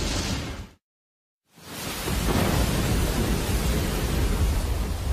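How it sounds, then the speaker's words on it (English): A storm with heavy rain at sea during a mega container ship's voyage, a loud, dense roar of rain and wind that cuts out briefly and then returns strong and continuous. "The Atlanta is weathering the storm, which is losing intensity."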